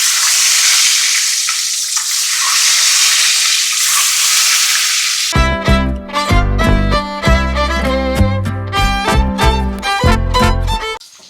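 Eggs fry in a kadai-style wok on a stove, giving a steady, fairly loud sizzle for about five seconds before music takes over and drowns it out.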